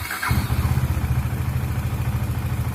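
A KTM motorcycle engine idling at about 2000 RPM after starting up, a steady, rapid, pulsing thrum close by and fairly loud, with no voices.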